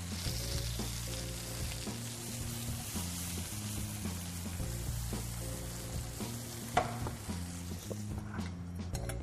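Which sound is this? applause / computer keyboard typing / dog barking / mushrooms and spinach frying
mushrooms and spinach frying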